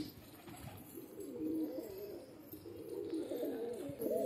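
Pigeons cooing close by in a low, soft murmur that rises and falls steadily, with faint ambient background and no talk.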